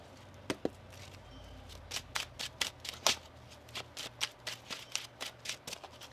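Tarot cards are shuffled up close. A quick series of crisp riffling snaps comes in a steady rhythm, with no talk.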